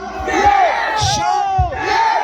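A crowd at a China Hills gathering shouts "Sha" back in loud unison, two or three surging group shouts in quick succession with brief gaps between them.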